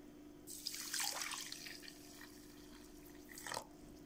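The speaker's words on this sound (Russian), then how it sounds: "Добавляем воду в миску с каркаде." Water splashes and trickles into a bowl of hibiscus tea for dyeing eggs for a few seconds, a brief splashy burst near the start and another toward the end, with no talking.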